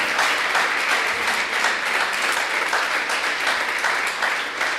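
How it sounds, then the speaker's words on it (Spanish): A church congregation claps together in a dense, steady wash of applause that stays even and moderately loud for the whole stretch, with no voices standing out. "den un aplauso al Señor,"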